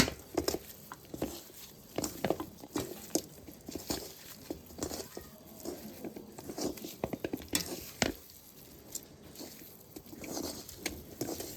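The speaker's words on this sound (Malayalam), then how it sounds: "ഇത് നമുക്ക് നന്നായിട്ട് കൈ കൊണ്ട് യോജിപ്പിച്ച് കൊടുക്കാം കേട്ടോ" Raw chicken pieces are mixed by hand with curry leaves for a chicken fry marinade. The mixing makes close, irregular wet pats, squelches and taps that come in quick clusters with short pauses between them.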